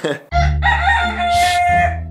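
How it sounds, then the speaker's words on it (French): A rooster crows loudly and close by, one long drawn-out call with a sustained tone and a rough, breathy top, coming in after a brief lead-in and holding to the end. "y a le coq qui, qui s'amuse derrière."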